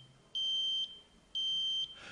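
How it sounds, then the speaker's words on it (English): A gas monitor's audible alarm sounds two sustained high-pitched electronic tones, each about half a second long, separated by a short gap. Both are loud and clear over a quiet background, with no voices. "it will activate an alarm signal in the form of an audible sound and with a flashing light"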